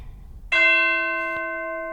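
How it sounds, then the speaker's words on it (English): A big bell struck once in a music track, sudden bright metallic clang followed by a long, slowly fading ring with clear tonal overtones. "Another big bell."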